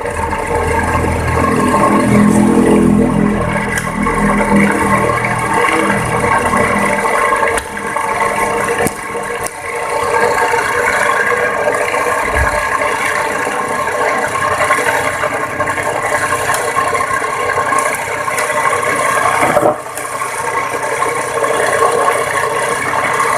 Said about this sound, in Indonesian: jadi ini motor sudah bisa bekerja.